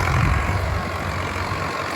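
A farm tractor towing a trailer of logs out of a plot: a steady, close, heavy engine drone with a rough low rumble and no pauses.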